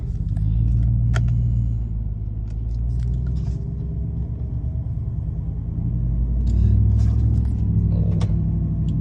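A lowered Chevrolet Trail Boss pickup drives along, its engine a steady deep rumble heard from inside, swelling slightly as it picks up pace, no voices.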